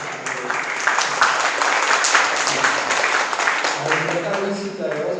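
A seminar audience at a Korea–China traditional arts exchange applauds to welcome a professor, steady continuous clapping across the room with some voices underneath.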